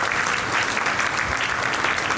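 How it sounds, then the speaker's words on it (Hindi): Audience applause at a poetry gathering during a Durga Puja festival, a dense, steady roar of many hands clapping together, loud and even for the whole couple of seconds. "एक बार उसके लिए ताली बजनी बहुत जरूरी"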